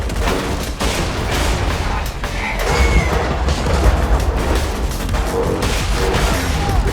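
Cannon in Borderlands 2 firing two shots automatically, heavy booming gunfire bursts over a dense, loud continuous din of battle noise throughout.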